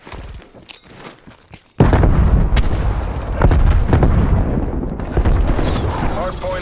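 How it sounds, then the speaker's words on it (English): A frag grenade goes off in Call of Duty Black Ops Cold War during a hardpoint match, a sudden loud boom with rumbling gunfire and a radio voice before and through it. "Throwing frag."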